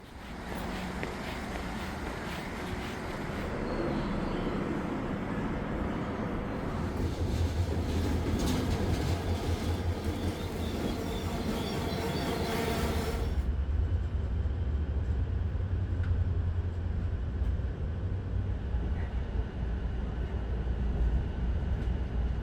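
A Korail slow tourist train rumbles steadily along the rails, its wheels droning and clattering in a continuous, moderately loud roar with no voices.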